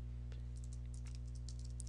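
Quiet keystrokes on a computer keyboard as a web address is typed, scattered clicks with a steady hum underneath and no talk.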